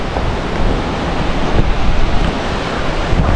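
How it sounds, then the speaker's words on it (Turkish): A loud waterfall at Matucana rushes in a steady, dense roar close by, constant and unbroken throughout with no voices. "Şelale şurada. Bayağı gürül akıyor yani."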